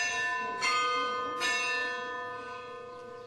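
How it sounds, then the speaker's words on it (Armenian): Church bells of St. Gayane Monastery ring out on a pilgrimage day, two clear strikes a moment apart with long, shimmering overtones that slowly fade, heard from moderate distance. "թմբուկները լռեցին ու լսվեցին Սուրբ Գայանեի զանգերի ղողանջները"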